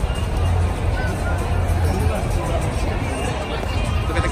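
A crowd on Oxford Street in London makes a dense babble of many voices and footsteps, loud and steady, with people talking close by.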